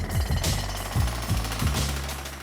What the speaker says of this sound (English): We had to widen those with jackhammers.